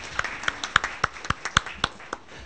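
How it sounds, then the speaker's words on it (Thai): A small audience claps for the speakers at an academic seminar, sparse, distinct hand claps spread unevenly over a couple of seconds, fairly close. "ขอเสียงปรบมือ"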